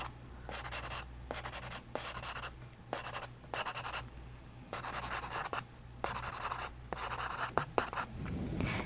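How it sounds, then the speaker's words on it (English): Pencil drawing on paper for a homemade Christmas card, close and steady: bursts of scratchy strokes separated by short pauses, with a faint low hum beneath and no talking. "And I'm turning my pencil."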